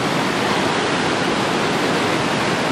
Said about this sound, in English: right by the rapids, like they're right there